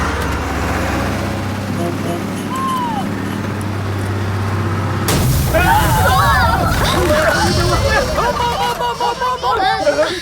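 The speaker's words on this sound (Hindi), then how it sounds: "कोई बम नहीं फूटा, बस का टायर है।" A bus tyre bursts with a sudden loud bang, mistaken for a bomb. Steady road rumble gives way to a busy burst of noise, followed by crowd hubbub and voices.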